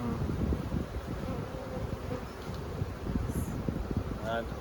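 Honey bees fanning at the entrance of a Langstroth hive, a close, steady buzzing drone with wind rustle against the microphone and a few brief higher whines near the end.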